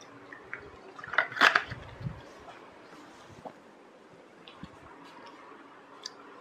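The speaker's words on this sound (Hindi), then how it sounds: "एक मिनट पानी पी लें।" A person drinks water in a few quick sips, giving soft clicks and gulps in a brief burst near the start. Scattered faint ticks follow in otherwise quiet surroundings.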